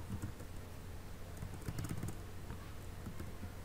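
Quiet, rapid clicking of keys on a computer keyboard, a continuous faint patter of keystrokes with small bursts, close by in a room with no talking.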